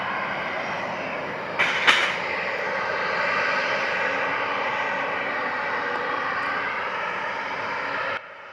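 A JetBlue airliner landing on runway 25 at Montego Bay, Jamaica, its engines producing a steady loud roar heard from a distance, with a brief sharper burst near the start before it cuts off at the end.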